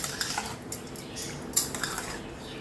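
A spoon clinks and scrapes against a pot while chicken with turmeric and rock salt is mixed, a few quiet light knocks and rattles close by, with no talking.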